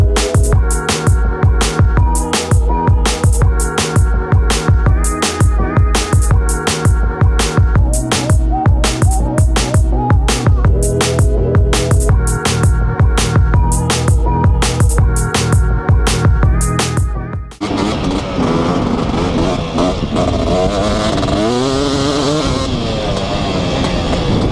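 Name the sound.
dirt bike engines warming up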